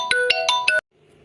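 A phone rings nearby in a kitchen where ezogelin soup is cooking, with four quick bright electronic tones, then stopping abruptly.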